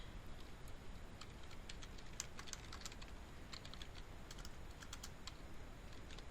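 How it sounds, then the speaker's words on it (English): Typing on a computer keyboard: quick, light key clicks in short uneven bursts, close and quiet, over steady background hiss with no talking. "So I'm going to type in"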